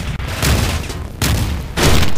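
A cannon in the video game Teleglitch fires at a boss, making three heavy, loud booming blasts in steady succession, each one long and rumbling, with no talking over them.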